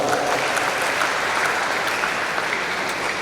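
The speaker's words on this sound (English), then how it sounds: "Please, a round of applause for her" Applause from a lecture audience at an inaugural lecture, honouring a newly named professor of English as a second language; dense, steady clapping fills the whole stretch at an even level with no voices over it.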